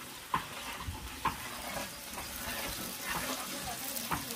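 Onions sizzling in a hot tempering (vaghar) of oil, a soft continuous fry with a few sharp clinks of a spoon against the pan.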